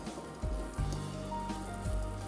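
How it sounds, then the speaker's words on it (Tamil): Masala spices roast in a pan for chicken kurma, giving a soft, steady sizzle and hiss with a few low thumps from the pan, and no one speaking. "ஸோ இது நல்ல ஃப்ளேவர் வர வரைக்கும் நல்லா வறுக்கணும்."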